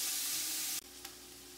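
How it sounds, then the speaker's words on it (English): Vegetables and onions sauteing in a pot for vegan chili give a steady, bright sizzle that cuts off abruptly, leaving a quieter hiss with a faint brief clink. "we have sauteed our vegetables for about 5 minutes"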